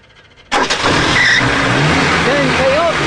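A Suzuki car engine cranks and catches abruptly, then runs steadily at a loud, close idle with a brief rev, while voices talk over it.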